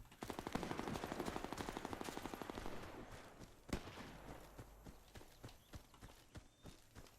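Rapid-fire shotgun blasts from a video game, a fast regular burst of loud shots at first, then slower, spaced single shots with lighter clicks and thumps between them, with no one speaking.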